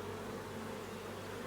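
Honeybees buzz around an opened hive as frames are handled, a continuous close, steady drone with no voices.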